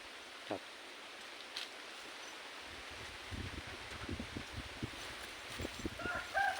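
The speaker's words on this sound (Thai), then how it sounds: "สำหรับไก่ผมก็เปลี่ยนไก่พันธุ์ไทย" Thai native breed chickens on a small farm make soft, scattered clucks and scratching sounds, mostly faint against a steady outdoor rustle, with a few sharper calls near the end and no talking.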